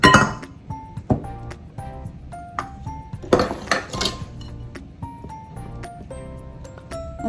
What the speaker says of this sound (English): I'll just probably mix half of the dry ingredients first.